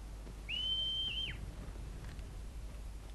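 A character in the video game Final Fantasy XVI gives a single clear, sustained whistle of about a second with a quick falling slide at the end, heard alone over a low steady background hum.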